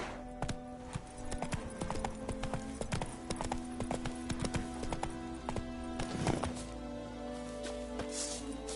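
Roach the horse gallops in The Witcher 3 video game, a steady rapid clip-clop of hooves running continuously and fairly close, with a faint rider's voice briefly over the hoofbeats.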